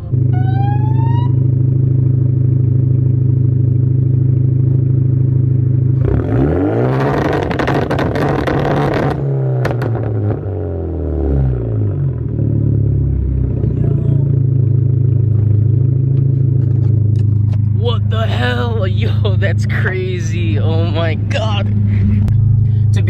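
A tuned Hyundai Genesis Coupe 2.0T engine idles with a steady low rumble, then bursts into sharp, popping two-step launch-control revs held near the limiter, settling back before another stuttering rev surge near the end.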